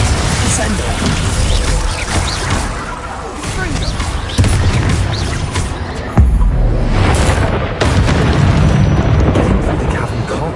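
Loud, rolling blasts of a Confringo fire spell in Hogwarts Legacy, several booming explosions crashing one after another amid constant battle noise, with a voice shouting over them.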